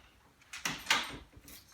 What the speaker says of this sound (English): door closes